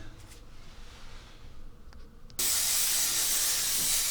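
Matte lacquer sprayed from an aerosol onto a model railway layout: after a quiet start, a loud, steady hiss bursts in and runs unbroken to the end, close to the mic.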